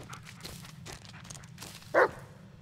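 A dog in the Blair Witch video game gives a single sharp bark, loud and close, rising over a low steady rumble of game ambience and faint movement sounds.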